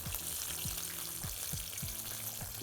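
Shrimp fry in a pan with a quiet, even sizzle, punctuated by regular soft thumps roughly every half second.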